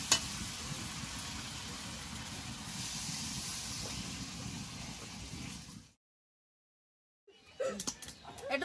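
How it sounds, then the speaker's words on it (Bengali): Chicken frying in oil sizzles loudly and steadily when water is poured in, a dense hissing roar lasting about six seconds before cutting out, followed by a brief burst of clatter. "এবারে জল দিয়ে দেবো"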